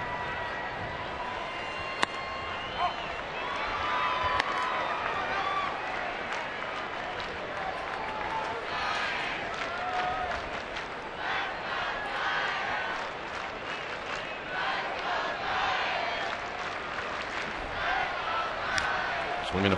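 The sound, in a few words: baseball stadium crowd applauding a player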